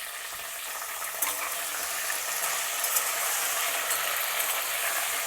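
Onions, tomatoes and green chilies fry in a pan with fenugreek and mustard seeds for a Konaseema veg thali, giving a steady, close hiss of sizzling oil with faint crackles throughout and no talking.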